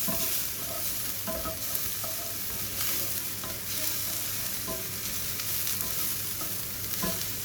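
Chopped onion sizzles steadily in a hot pan while a utensil stirs it, scraping and tapping at irregular intervals over a continuous close frying hiss.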